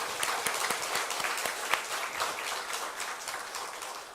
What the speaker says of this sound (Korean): 이 두 분 목사님에게 우리 격려의 박수 한번 뜨거이 보내주세요